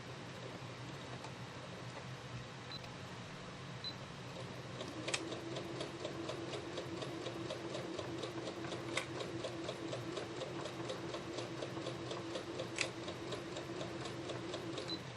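Sewing machine running steadily as it stitches a quilt block, with a fast even ticking of the needle and a few brief back tacks, close and continuous with no talking.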